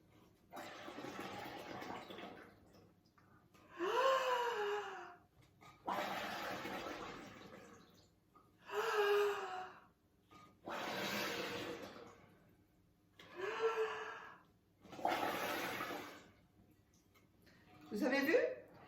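Bubbles are blown through many straws into a large bowl of water, making repeated bursts of loud, rough gurgling and bubbling, each lasting a couple of seconds with short pauses between, and a voice sounding between some of them.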